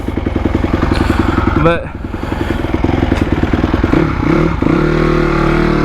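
A previously non-running 250 dirt bike engine revs loudly and steadily, with a brief rise in pitch as the throttle opens, then settles back to a throbbing idle; a person briefly speaks over it.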